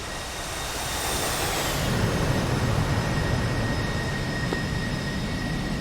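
An F/A-18 Hornet jet roaring as it comes in to land on a carrier in the DCS combat flight game, a loud, steady broadband engine rush that swells slightly and holds, with no talk.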